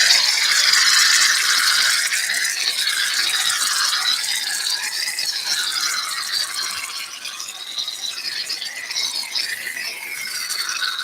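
A can of shaving cream is shaken steadily and close up, giving a continuous rattling, rhythmic clatter of the mixing ball that lasts throughout.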